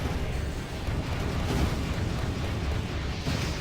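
A flashbang explosion in the video game Armored Core 4 gives a dense, sustained roaring burst of noise that fills the whole short stretch at moderate level.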